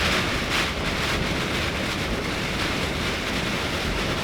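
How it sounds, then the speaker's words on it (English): A steady, dense roar of heavy rain and hail driven by strong wind at an off-road wind farm, heard from inside an HGV, constant throughout with no break. "This is part rain, part hail."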